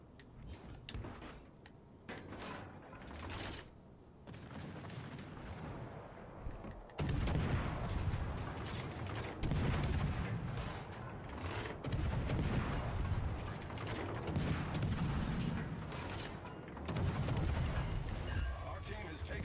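Deep naval gun salvos from World of Warships: Legends warships firing HE shells, with heavy booms and rumbling blasts recurring through a steady low background din, and a voice talking quietly among them.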